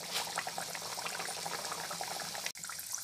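Puri dough made from maida fries in hot oil, giving a continuous, faint bubbling sizzle with small crackles throughout and a brief dip near the end, with no talking.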